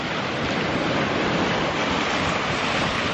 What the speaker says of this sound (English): I can get that water rushing over top of the branch there